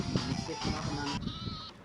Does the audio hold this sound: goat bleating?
yes